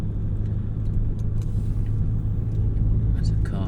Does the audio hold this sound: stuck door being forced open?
no